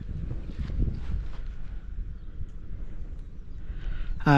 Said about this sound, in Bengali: প্রচন্ড বাতাস চারিদিকে।